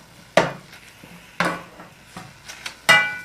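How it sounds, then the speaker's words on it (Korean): A utensil scrapes and clanks against a pot in several separate strokes, stir-frying seaweed and other ingredients for seaweed soup, with sharp metallic knocks and faint sizzling between. "다 넣고 이렇게 열심히 볶습니다"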